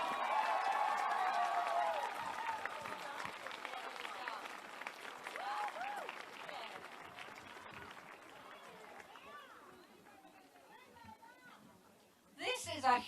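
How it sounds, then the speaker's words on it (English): A large crowd at a rally claps and cheers loudly at first. The applause fades gradually under a speaker's voice, and a brief burst comes back at the end. "Please make them both very welcome, Biff and Virginia."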